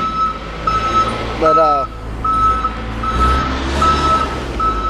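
A forklift's reversing alarm beeps repeatedly in an even rhythm, loud and close, over a low engine rumble, with a short clatter partway through and a brief spoken word.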